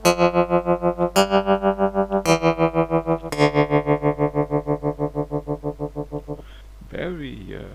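Vibed string instrument emulator synth run through distortion and chorus effects, four loud plucked notes with long buzzing sustains and a rhythmic tremolo pulse, ending in a brief wobbling pitch-swept tone.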